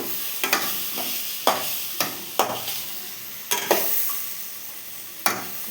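Mango pieces for mango pickle fry in sesame oil with a soft, steady sizzle, broken by about eight sharp scraping stirs at irregular intervals, close and fairly quiet.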